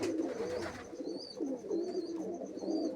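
Pigeons coo softly in a loft, with low, repeated burbling calls against faint background noise and a thin high whine.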